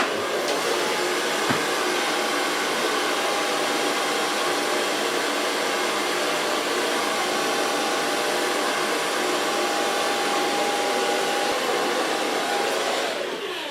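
A hair dryer blows steadily and loudly on a short pixie haircut, a continuous airy whine with no talking, running unbroken until it cuts off at the very end.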